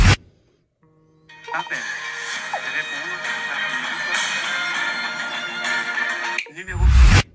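A Samsung smartphone ringtone plays loudly for several seconds as a melodic electronic tune, then cuts off abruptly, with brief thumps at the start and end.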